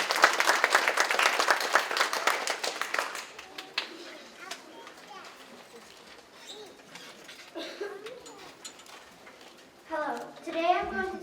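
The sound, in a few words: audience applause at school graduation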